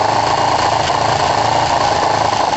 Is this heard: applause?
no